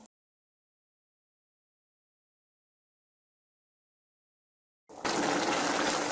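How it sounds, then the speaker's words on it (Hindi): Peas being fried in a pan: after a long stretch of silence, a loud, steady, close sizzle suddenly starts and fills the last second or so. "अब मैं मटर को भी अच्छे तरीके से भून लेती हूँ थोड़ी देर के लिए।"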